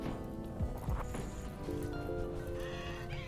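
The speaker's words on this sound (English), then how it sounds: "And a donkey on fire." A burning donkey in RimWorld lets out a short braying, neigh-like cry, followed by sustained tonal game sounds and a steady low background rumble.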